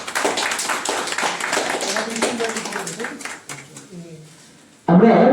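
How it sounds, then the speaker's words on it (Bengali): An audience claps together to welcome a guest at a literary gathering and magazine launch, a dense burst that fades over a few seconds into a speaking voice, then another loud burst at the end. "সকলে হাততালি দেবেন"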